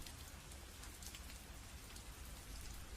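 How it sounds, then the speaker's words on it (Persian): Steady rain falling outside on a cold day, an even, soft patter heard faintly and continuously with no voices. "بارون قشنگی میباری مگه نه؟ عاشق صدای بارونم."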